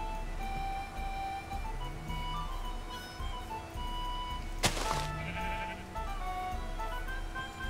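Minecraft sheep bleating in the game, several short wavering bleats spread through the stretch over steady background game music, with one sharp thud partway through and no voices.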